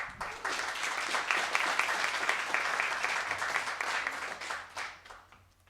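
Audience applause for a speaker at a university thesis presentation final, a crowd's steady clapping building quickly and then fading toward the end.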